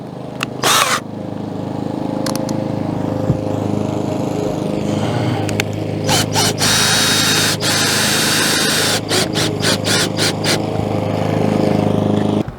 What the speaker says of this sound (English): Now we're just gonna shoot some screws in this, hold it down.